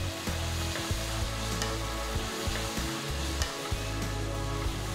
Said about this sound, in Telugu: ఉల్లిపాయలన్నీ బ్రౌన్ రంగులోకి మారేంత వరకు వేయించాలి